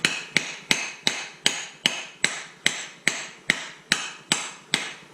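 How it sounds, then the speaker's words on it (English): A hammer tapping a socket to drive a new output seal into a 4L80E transmission extension housing, twelve sharp metallic strikes at an even, steady pace, close and loud with no talking. "You'll know when it's seated because the pitch will change when you're tapping on your socket or whatever device you use to drive it on."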